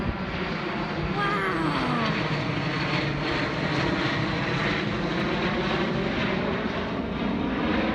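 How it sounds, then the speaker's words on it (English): A steady airplane engine drone fills the whole stretch, a constant low roar from overhead with a faint voice somewhere under it. "Oh, and I hear airplane!"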